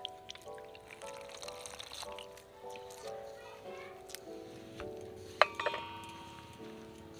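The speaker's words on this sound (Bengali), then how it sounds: "এবার আমি এর মধ্যে জল দেবো" Water is poured into a bowl of flour being mixed for aloo paratha dough, a soft trickle running under a speaking voice with a bright clink of utensils partway through.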